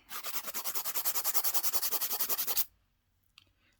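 A poly gel nail being filed and shaped on a real nail: rapid, steady back-and-forth rasping strokes about eight per second, loud and close, that stop abruptly and leave near silence with one faint click.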